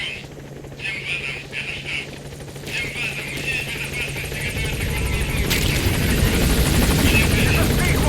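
The P-Quad helicopter arriving at the landing zone in the game Metal Gear Solid 5, a rotor drone and whine that grow steadily louder and closer, with intermittent radio chatter over it at first.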